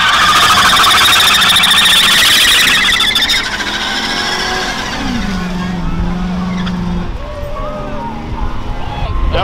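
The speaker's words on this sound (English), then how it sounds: "A little harder to drift the stock crown back than you thought!" A stock Crown Victoria drifting, loud engine roar and rising tire squeal early, then the car fading as it slides away, with a voice speaking over the noise.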